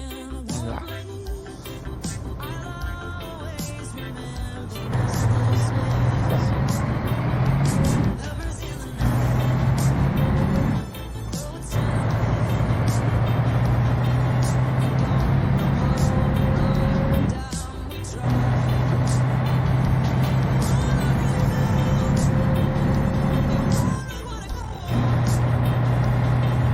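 Ambient traffic sound effect from an RC Scania 143 truck game map, a steady loud engine and road drone broken by a few brief dropouts.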